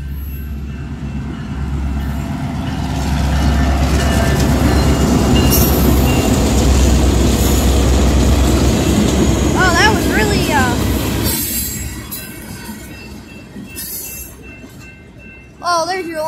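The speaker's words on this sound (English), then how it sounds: "Oh, there's your long train, folks." A long freight train carrying coal rumbles past up close, a loud, sustained roar of wagons and wheels with occasional squeals, fading after about eleven seconds while people talk over it.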